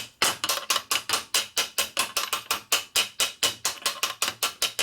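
A hammer drives a bushing onto the main shaft of a Harley Shovelhead ratchet-top transmission during a rebuild. Quick, even, close metallic blows repeat at about four to five per second throughout.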